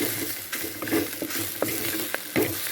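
Drumstick leaves and onions sautéing in a pan, a steady low sizzle of frying with a few soft stirring scrapes and clinks of a spatula, close and moderately quiet, no voices.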